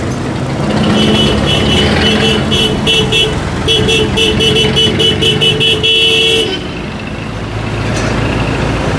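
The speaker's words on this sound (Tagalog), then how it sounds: "Marami pala dito mga motorsiklo." Busy city street traffic packed with motorcycles and cars during a roadside clearing operation, engines droning loudly and continuously with short horn toots on top, easing near the end.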